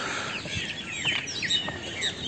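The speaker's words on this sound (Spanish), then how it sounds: "Escuchen los pajaritos." Small birds chirp and tweet at an airport in quick, thin bursts over a steady background hum, fairly faint and scattered throughout.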